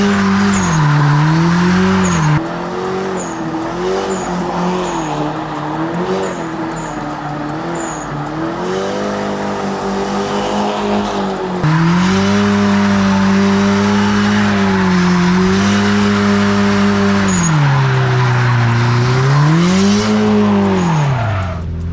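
An STI-swapped Subaru Forester drifting on a track, its engine droning and surging in long revving swells while tires squeal continuously, loud and close throughout.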